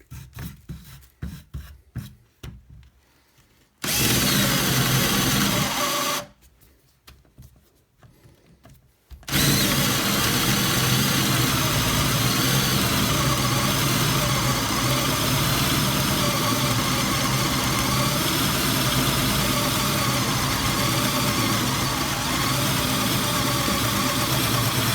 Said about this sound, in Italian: proverò a fare lo stesso tipo di foro con il vecchio tipo di avvitatore, quello col mandrino fisso